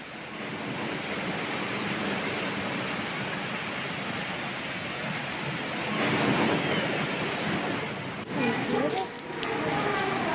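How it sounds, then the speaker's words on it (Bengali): Rain and surf on Digha sea beach come through as a dense, steady rush of broadband noise. Partway through there is a brief shift in tone as the roar continues, and no one speaks. "সকাল থেকেই বৃষ্টি হচ্ছে দীঘায়।"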